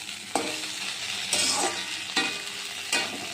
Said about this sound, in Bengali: আমার ঢেঁড়স ভাজা হচ্ছে।